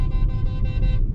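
Truck horn honking from behind on a windy high-plateau road, a loud sustained toot that pauses and restarts briefly, heard over the low rumble of a moving vehicle.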